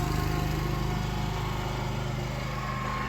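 A motor grader's engine cranks up and runs with a steady, loud, rough mechanical drone, close by and unbroken, with no talk over it.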